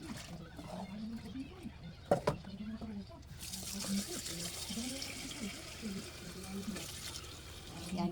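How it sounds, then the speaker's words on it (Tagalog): Water running from a tap while a pumpkin is washed in a sink, a steady splashing hiss that grows louder and brighter partway through, with soft handling clatter. "Hugasan ko muna."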